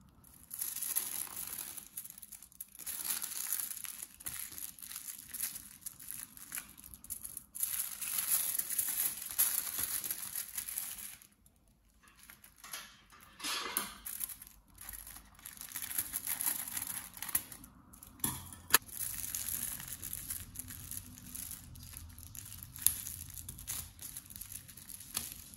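Aluminium foil crinkling and being cut while lining a homemade ring light, a close, continuous papery rustle with scattered crisp snips, a short quiet break near the middle, and no speech.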